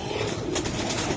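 Giribaj pigeons at a Bangladeshi pigeon market coo softly in a short, steady murmur, close by with faint background bustle and no speech over it.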